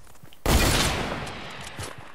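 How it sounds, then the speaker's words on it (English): Gunfire in the video game Fortnite: a sudden loud burst of shots that rings out and decays over about a second and a half, with no talking. "he's actually shooting us"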